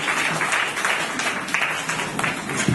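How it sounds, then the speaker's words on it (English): Congregation clapping hands during a church service in Dar es Salaam, a short stretch of dense, fairly loud applause from many people in the hall. "Clap hands for Jesus."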